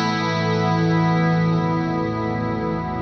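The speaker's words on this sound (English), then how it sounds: "I switch up to that scene, and the reverb is holding indefinitely" An electric guitar chord rings through a Fractal Audio effects unit with reverb hold engaged, the sustained wash hanging steady and loud without decaying, dense and shimmering with no voices.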